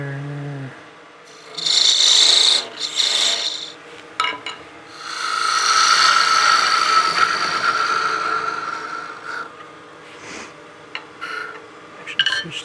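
A lathe gouge makes peeling cuts on a small wooden mushroom ornament, giving close, raspy scraping bursts that swell and fade irregularly, with a long sustained cut in the middle.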